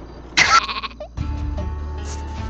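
Sheep bleating in the Worms W.M.D video game, a loud burst of cartoonish bleats followed by lower game sounds and a brief tonal chirp.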